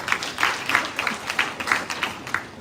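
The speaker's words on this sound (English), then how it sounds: "Double clap for her" At the APC Diaspora 6th Region Retreat, a crowd gives rhythmic double-clap applause, a steady series of paired claps from many hands at a moderate distance.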